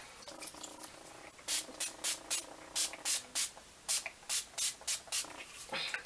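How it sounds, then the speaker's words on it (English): Urban Decay Naked All Nighter setting spray misted in a quick series of about eleven short, sharp bursts, close and fairly loud, after a faint, quiet start with no talking. "I'm just going to go in to set everything now with my Urban Decay Naked All Nighter Setting Spray."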